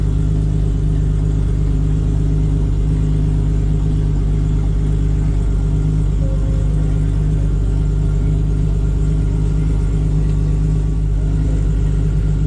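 A race car engine running 45 pounds of boost drones continuously with a deep, steady rumble, loud and close throughout, without clear surges in pitch.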